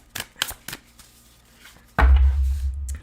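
Spellcaster Oracle tarot cards being shuffled: three quick papery riffles close by, a quiet pause, then a louder, longer rustle of the deck with a low rumble beneath.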